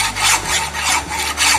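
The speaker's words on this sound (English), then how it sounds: "This is a rough file, it's called the rough file." Rough hand file rasping rust off a steel welding workpiece, several loud close back-and-forth strokes in a steady rhythm with no talking.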